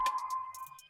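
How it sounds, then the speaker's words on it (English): A single sustained synth tone rings steadily with a few soft high-pitched blips flickering above it, brief and fairly quiet. "The next sound I got is this Belltone"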